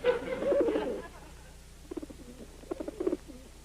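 Pigeons in a message-pigeon coop give soft, low cooing calls in short bursts at a moderate distance, with a voice speaking over part of it.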